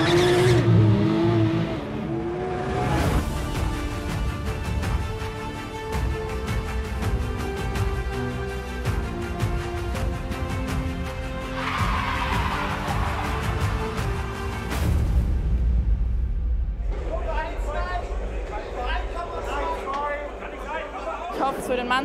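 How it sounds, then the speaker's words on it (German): Race cars roar past at the Nürburgring 24-hour race, engines rising and fading with revving and gear changes, loud and close, while people talk excitedly over the noise. "Ich bin total begeistert hier, wie fett das Sound ist überhaupt hier von den Autos."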